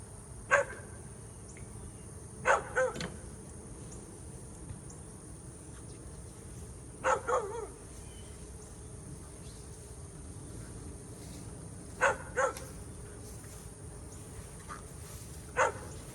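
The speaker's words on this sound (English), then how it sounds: "I apologize about the dog barking in the background." A dog barks in the background in short clusters of one to three barks, spaced several seconds apart, over a steady insect-like buzz and hum near a bee nuc being taken off a tree.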